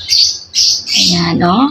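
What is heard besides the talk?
bird calling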